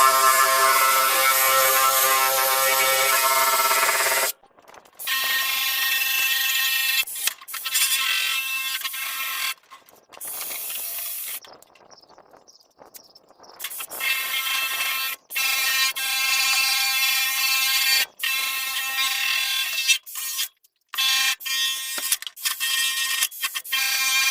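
A DeWalt power tool whirs loudly and mechanically, with a steady grinding rattle, stopping and restarting several times in short bursts while restoring a barbecue.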